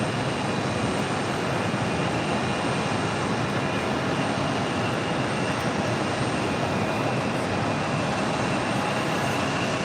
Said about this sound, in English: Next arrival is Kuwait Airways, flight 117, coming in from Kuwait City on an A330 Neo, this time an 800.